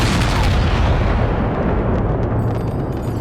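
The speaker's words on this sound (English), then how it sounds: "At 4:10, cannon opened fire on the rebels." Cannon opening fire in a volley on rebel troops in a city square, a loud sustained rumbling blast that slowly fades over a few seconds, with no voices.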